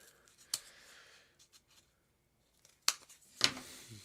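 Scissors trimming the corners of double-layer cardboard, three sharp separate snips close by with quiet gaps and faint handling noise between them.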